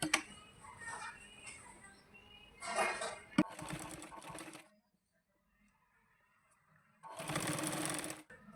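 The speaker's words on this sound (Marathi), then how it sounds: "इथून शिलाई मारून घ्यायची" Stitching a blouse hem, a domestic sewing machine whirs in several uneven bursts with a brief tap between them, falls silent for a couple of seconds, then runs again in a final loud stretch.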